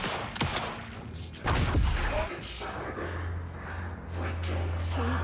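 Gunfire in Alan Wake 2: a few sharp shots ring out over a dim game background, with one heavier burst early and a steady low hum filling the rest.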